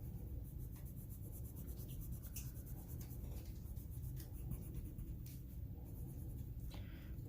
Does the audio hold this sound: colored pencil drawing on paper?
yes